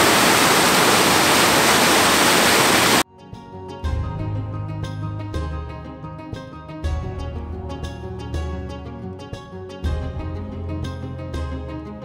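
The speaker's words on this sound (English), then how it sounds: "The Triberg waterfalls are advertised as the highest" Rushing roar of the Triberg waterfalls in Germany's Black Forest fills the first three seconds as dense, steady white-water noise, then cuts off abruptly and music carries the rest.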